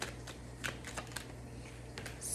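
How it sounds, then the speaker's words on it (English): A Kipper oracle card deck being shuffled, giving a run of light, quick papery riffles and taps at close range over a faint steady hum, with no talking. "I just want to give the Kipper a quick shuffle"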